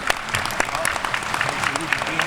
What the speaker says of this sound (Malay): Para perwakilan diminta berikan tepukan gemuruh untuk mengucapkan terima kasih kepada